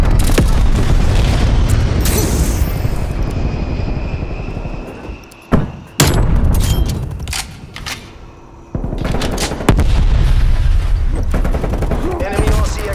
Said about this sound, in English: Strafe run incoming at your location.